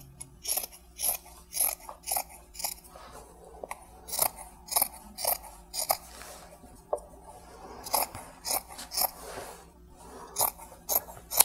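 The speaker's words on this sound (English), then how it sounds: "I want to cut the hem" Scissors snip steadily through the hem of a cotton t-shirt, making a series of close, crisp cuts in an even rhythm, fairly quiet and with no talking.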